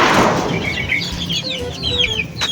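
Chicks cluck and chirp in a busy cluster close by, waiting for feed, with short, bright peeps layered over a soft, rustling background.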